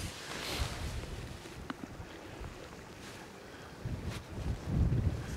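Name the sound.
wind blowing, tent fabric flapping outdoors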